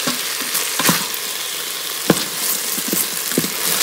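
Tomatoes fry with a continuous loud sizzle in an Instant Pot, punctuated by scattered clicks and scrapes of a spoon stirring the pot.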